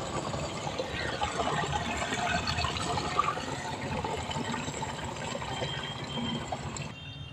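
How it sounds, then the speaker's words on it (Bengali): Water is poured out in a rural field setting, a continuous gushing, splashing flow that stays fairly loud and close, then cuts off abruptly near the end. "তো দাদা এখন জলটাতে ঢেলে নেবে।"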